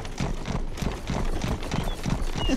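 Horse hooves clip-clop in the Rustler video game, a steady, rhythmic run of close hoof beats on hard ground with some background game noise.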